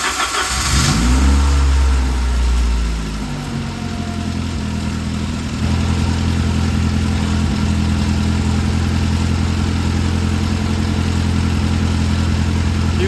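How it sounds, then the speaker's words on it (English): A Saab 900 car engine cranks and starts with a loud low rumble, then settles into a steady idle that runs on evenly and close by, with no talking. "let's start the car and let it run."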